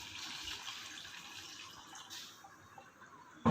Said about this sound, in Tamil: இப்போ தேவையான அளவு கொஞ்சம் தண்ணி ஆட் பண்ணிக்கலாம்.